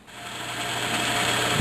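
A drill bores steadily into material, its grinding whir growing slightly louder and rougher as the bit works deeper.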